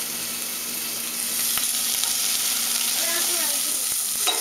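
Sliced onion and garlic stirred in a hot pan with a steady sizzle underneath, occasional soft utensil scrapes and light taps standing out against the continuous frying hiss.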